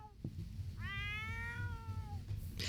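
Cat in The Sims 4 Cottage Living meowing once, a drawn-out, clear mid-pitched meow lasting over a second against low game background sound.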